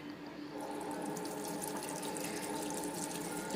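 Tap water runs steadily into a sink while henna is washed off hands, a soft continuous splashing stream close by.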